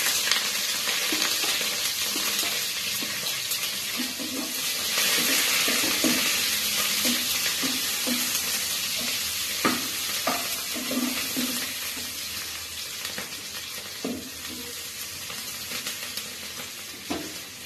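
Sliced onion and green chillies sizzle steadily in hot oil in a wok, a dense continuous crackle with occasional spatters and stirring scrapes, loud and close throughout.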